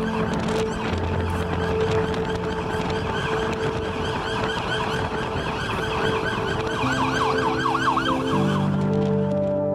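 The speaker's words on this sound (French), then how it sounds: "Les sirènes des ambulances ont remplacé la musique des bars dans la rue." Ambulance sirens wail continuously over steady street traffic noise in Belo Horizonte, Brazil, with several siren patterns overlapping and rising and falling throughout.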